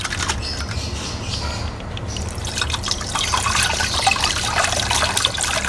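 Water splashes and trickles as multani mitti (fuller's earth) is rinsed and rubbed by hand, a loud, close, continuous wet sloshing that grows fuller toward the end.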